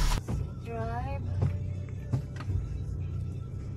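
A car driven slowly along a small road, a steady low engine rumble close by with a brief rising whine early on, with no one speaking.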